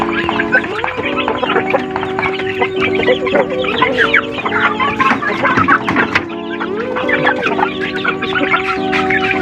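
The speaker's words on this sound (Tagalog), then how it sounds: "Ito yung mga malaki na pang sabong." Large fighting roosters cluck continuously on a rural property, many birds overlapping in busy, close clucking with occasional sharper calls and a steady background hum.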